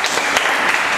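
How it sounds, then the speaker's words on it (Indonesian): A short burst of loud, dense applause from a class group, many hands clapping together in a continuous wash. "kasih tepuk tangan dong untuk kelompok 3"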